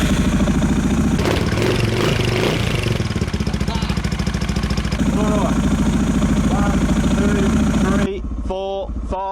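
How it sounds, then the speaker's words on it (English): A motorcycle engine runs steadily at idle up close, with a rhythmic mid-range drone lasting throughout and a slight change near the end as the tone shifts and drops. "I'm going to start the bike"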